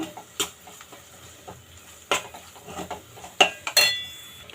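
A metal spoon scraping and clinking against a pan while ginger garlic paste fries with onions, sparse irregular clanks over a faint sizzle, no talking.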